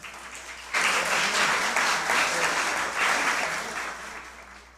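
Applause breaks out in a city council chamber at an award ceremony, a burst of many hands clapping that holds steady for a few seconds and then gradually fades.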